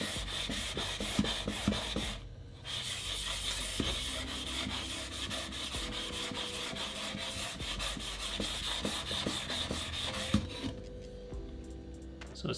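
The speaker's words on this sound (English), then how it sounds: "So you'll hear it sharpen, and you'll see metal start coming off as well." Power planer blade being sharpened, a continuous gritty scraping and rubbing of metal on an abrasive that runs throughout, faint and close, with brief pauses between strokes.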